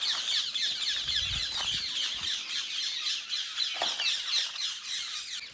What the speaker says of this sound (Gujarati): અહીંયા પોપટ ઘણા આવી ગયા હતા.